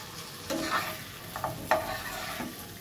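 Malabar spinach stems tossed with spices in a pan: several distinct spatula scrapes and stirs over a quiet, steady sizzle, heard close and without voices.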